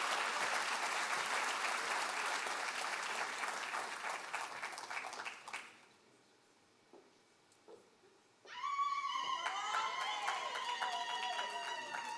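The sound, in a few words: audience round of applause for a speaker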